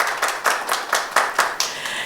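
An audience applauds a speaker being introduced at a Korean modern Go 80th anniversary panel discussion, producing a brisk run of clustered hand claps with rhythmic swells, fairly close and without voices.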